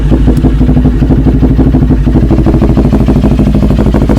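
A CF Moto 400NK motorcycle engine runs steadily with a fast, even clattering pulse and deep low rumble, close and loud throughout.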